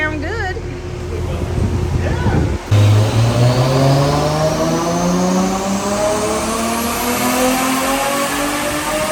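A Nissan 240SX with a stock RB25DET NEO engine revs on a dyno, its clutch slipping at high power: after a noisy start the engine note climbs steadily and loudly, holding a rising, sustained drone close by.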